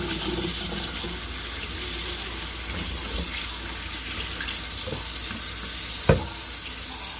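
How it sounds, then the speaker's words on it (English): Tap water runs steadily into a sink as mango and habanero peppers are rinsed, a constant close splashing hiss with a brief knock near the end. "I'm just washing up my things right now. Washing my mango, my habanero."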